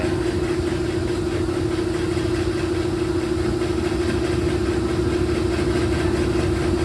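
An engine runs at a steady idle after being spun up, a constant droning hum with an even mechanical throb, close and loud throughout with no talking.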